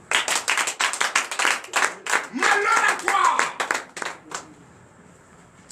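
A congregation claps in loose, rhythmic bursts at a French-language night deliverance prayer service, loud and close, while a preacher's voice cuts through before the clapping fades into quiet.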